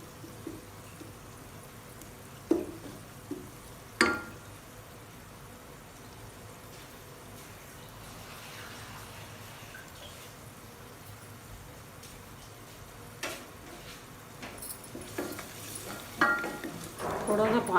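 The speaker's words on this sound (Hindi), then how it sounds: "एक मिनट के लिए हम इस मसाले को फ्राई करेंगे।" Masala with crushed chilli fries in a pan, a low continuous sizzle with occasional clinks and stirring taps, close up and fairly quiet.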